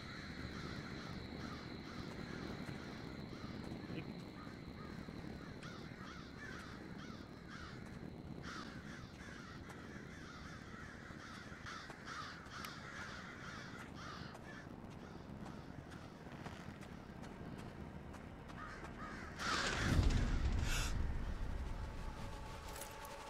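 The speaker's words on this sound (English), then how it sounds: "Hey, there's the crows." Crows cawing repeatedly in the Pineview Drive video game, a run of harsh, rhythmic caws over a constant ambient background, fading midway, with a louder burst of sound near the end.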